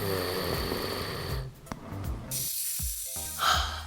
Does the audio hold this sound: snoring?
yes